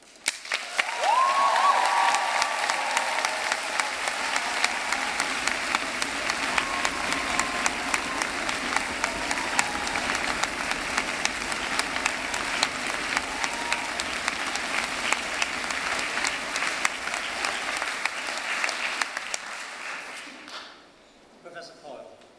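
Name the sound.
applause and cheers opening a graduation ceremony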